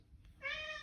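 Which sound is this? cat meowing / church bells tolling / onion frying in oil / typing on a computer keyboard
cat meowing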